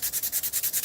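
Rapid, rhythmic strokes of sanding, loud and close, with a regular back-and-forth scratching rasp repeating about every tenth of a second and no voices.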